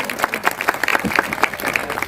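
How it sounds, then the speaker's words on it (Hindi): An audience at a stage performance applauds a poet, the claps loose and uneven, close and fairly loud, with scattered individual hand strikes standing out over a short burst. "ऐसे लेखक हमारे बड़े भाई प्यारे लाल कवि जी के नाम पर जोरदार ताली से आप लोग सम्मान करें।"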